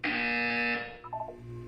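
A harsh electronic buzzer from the video game Portal 2 blares steadily for under a second and then cuts off. A softer electronic tone follows, wavering briefly before fading.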